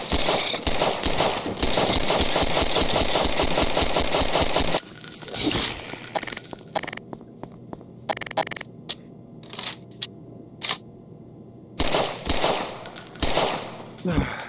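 Rapid automatic gunfire rattles loudly in a VR game of Half-Life: Black Mesa, aimed at a dog, then gives way to scattered single shots and clanks amid quieter stretches.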